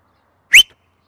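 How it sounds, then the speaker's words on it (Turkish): A single short, bright whistle rises sharply and stops, alone in otherwise silent surroundings. "Bir ıslık çaldı."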